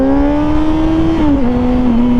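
A Honda CBR600RR motorcycle accelerates onto a highway, its engine note loud and close with a strong steady whine that climbs, then drops briefly at each gear change.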